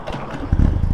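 A Honda RVF400 motorcycle engine catches and fires, a brief cranking rattle swelling into a close, rumbling idle that stays loud through the end.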